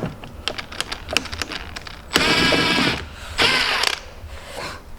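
Air gun driving extra-long wheel spacer bolts all the way home on an Alfa Romeo GTV V6, with two loud sustained rattling bursts of about a second each, set among lighter mechanical clicks and clatter.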